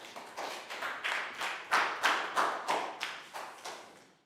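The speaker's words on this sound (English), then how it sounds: "Big round of applause" About a dozen rhythmic claps in a steady beat, evenly spaced and fairly close, like a small group clapping together in unison in a classroom.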